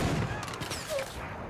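Bursts of heavy gunfire from a big gun in the video game Far Cry 5, several sharp shots in quick succession over game background noise, with brief voice sounds mixed in.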